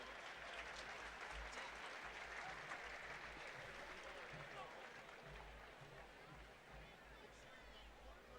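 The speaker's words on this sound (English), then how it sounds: "Let's give him a round of applause as he makes his way off the field." A college football crowd at a Valdosta State versus Henderson State game applauds an injured player leaving the field, steady distant clapping that fades slightly toward the end.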